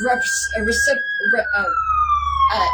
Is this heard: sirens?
yes